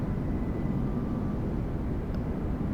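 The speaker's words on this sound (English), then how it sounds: "There's another one of those 747s coming in, it looks like." A Boeing 747 coming in is heard as a distant, steady low roar of jet engines, faint and continuous.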